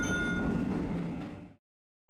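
A Keisei Line train rumbles steadily nearby at Takasago Station with clattering wheels, then the noise cuts off abruptly into silence.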